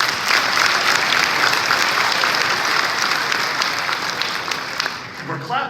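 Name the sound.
convention audience clapping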